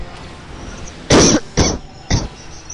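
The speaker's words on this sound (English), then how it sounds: "Blech, coughing." A person coughs three times in quick succession, each a loud, close, harsh burst, the first longest, with near silence in between.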